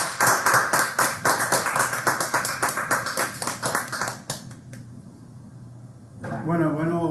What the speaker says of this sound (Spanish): Aplauso al chef.